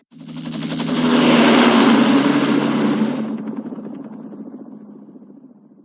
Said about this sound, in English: Just get in the chopper.